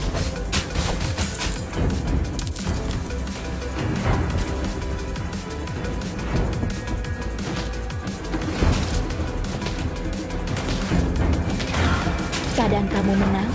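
Hanabi's flower shot skill fires in Mobile Legends, a dense burst of rapid shots and impacts under constant battle noise, music and a character's voice.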